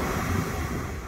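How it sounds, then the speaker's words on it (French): Air blows steadily out of a hole in seaside rocks, a continuous breathy rush close to the microphone with no break and no voices. "On entend bien que ça souffle."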